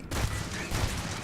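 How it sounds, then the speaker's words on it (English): Gunshots in Starfield, fired at deactivated robots, a short close run of loud, rapid reports over a dense, rumbling mix that lasts barely more than a second. "If I shoot them, they don't reactivate."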